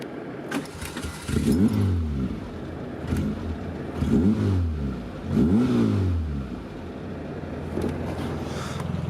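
A Peugeot 205 XS engine starts and revs repeatedly in rising and falling surges, about three strong pulls, over a steady idle rumble, close and loud.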